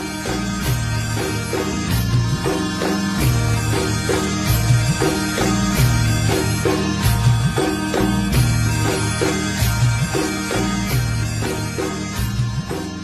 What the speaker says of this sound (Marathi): तेवढ्यात ढोलाचा आवाज आहे